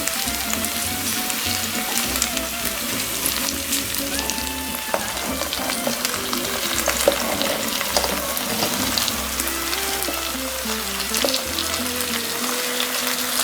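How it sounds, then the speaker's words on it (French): Tomatoes poured into a hot pan with fennel, loud steady sizzling and frying throughout, with occasional stirring clatter and no talk. "Donc je vais verser les tomates maintenant."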